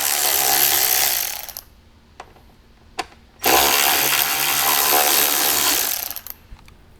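A power driver spins out the two top screws of a speaker pod mounted on the roll bar of a 2021-or-later Ford Bronco: two loud, close whirring bursts of a few seconds each, separated by a short quiet gap with faint clicks.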